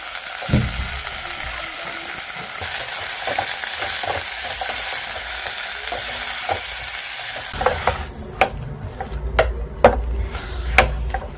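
Greens and cabbage stir-frying in a pan with a little oil, a steady bright sizzle for several seconds, followed by scraping and knocks of a spoon stirring the vegetables, close and with no talking.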